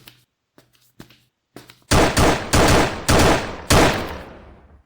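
Gunfire in a video game shooter striking an enemy's body, a few faint soft clicks followed by four loud, close shots, each with a ringing decay, the last fading out slowly.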